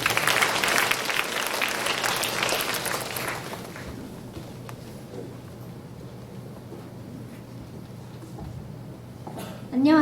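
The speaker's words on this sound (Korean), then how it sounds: "모두 큰 박수로 맞이해 주시기 바랍니다." At a high school information session, the audience claps loudly to welcome speakers, a thick round of applause that fades out after about three seconds, leaving quiet room tone before a voice begins at the end.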